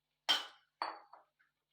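Cut potato pieces drop into a metal pan of masala with a few sharp clinks and clatters, three or four separate impacts close by, with no talking.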